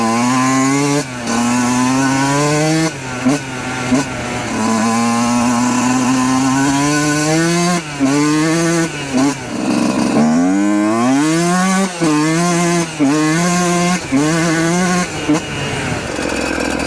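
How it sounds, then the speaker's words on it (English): A Yamaha YZ125 two-stroke dirt bike engine revs loudly and close by, with rising and falling throttle blips and brief dips between pulls, running on premix with a rich-running fault, and no talking over it. "I had low RPM, whack the throttle, no bogging, so it's definitely not too lean."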